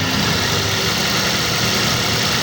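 A 2014 Toyota Avanza Type G engine idles while still warming up, producing a steady, even hum with broadband mechanical noise and no revving, heard close and continuous throughout.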